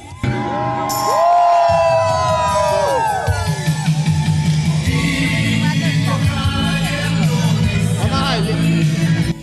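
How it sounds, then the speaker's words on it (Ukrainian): Students on a bridge shout patriotic slogans together, a loud crowd of overlapping voices with rising whoops and cheers that carry on and then settle into sustained chanting outdoors. "студенти вигукують патріотичні гасла, потім співають гімн."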